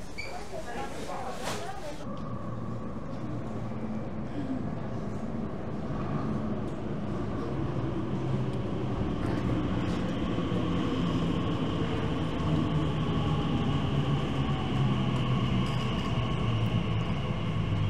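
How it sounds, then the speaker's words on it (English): An Elizabeth Line train pulls into an underground station, a steady low rumble and rising rolling roar building under the platform's ambience after a brief clatter at the start, continuing loud to the end. "I'll come back and resume just as the train is pulling in."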